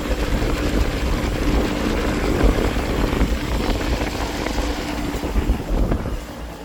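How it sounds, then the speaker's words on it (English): An air conditioner package unit runs outdoors with its compressor and fan going together, a loud, continuous, rumbling whir with a buffeting, wind-like texture and no pauses. "So now we're gonna see if the compressor's on"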